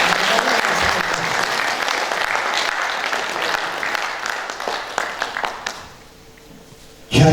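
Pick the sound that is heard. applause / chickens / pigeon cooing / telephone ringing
applause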